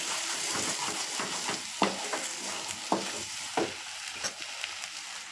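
Food frying in a pan as it is stirred, a continuous hissing sizzle broken by regular scraping and knocking strokes of the spoon, close and alone without talk.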